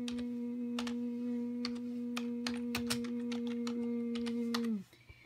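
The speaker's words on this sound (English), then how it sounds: "typing" Fast clicking keystrokes on a computer keyboard, an irregular patter of taps over a steady electronic hum that cuts off near the end.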